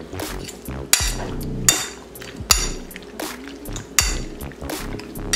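Beef being mixed in a pan with utensils for a beef and broccoli dish, metal scraping along the pan and sharp clanks recurring roughly every second and a half, with a low sizzle underneath.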